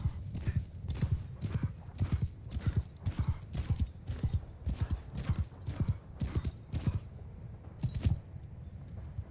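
Rapid, rhythmic hoofbeats of galloping horse archers in Mount & Blade II: Bannerlord, close and loud, pounding continuously with a brief whinny mixed in.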